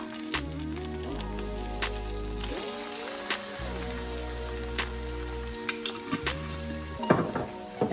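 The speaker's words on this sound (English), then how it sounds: "we're gonna go ahead and add in our spaghetti sauce. So I'm going in with the traditional sweet basil first" Sweet basil spaghetti sauce for a vegan spaghetti with Beyond Sausage going into a hot pan, a close sizzle and spatter with intermittent scraping and clanks of a utensil against the pan.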